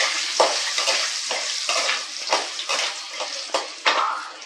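Urad dal and skinned raw peanuts frying and being stirred in a pan, a close continuous sizzle broken by repeated scraping strokes of the spoon, with no talking.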